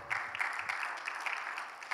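A church congregation applauds during a Bible seminar, a dense, steady patter of many hands clapping at moderate loudness, with no voices over it.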